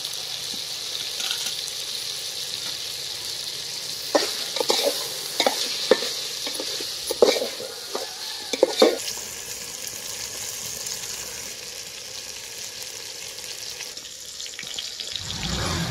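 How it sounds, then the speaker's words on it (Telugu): Ginger garlic paste sizzles and fries in a pan for sambar, with repeated stirring scrapes and clinks rising over a steady frying hiss, no voices. "అల్లం వెల్లుల్లి పేస్ట్ అయితే వేసుకుంటున్నానండి."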